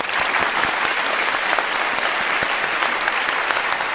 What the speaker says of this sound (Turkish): hanımefendilere lütfen bir kocaman alkışlar